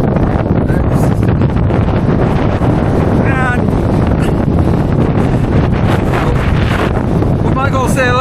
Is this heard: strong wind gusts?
yes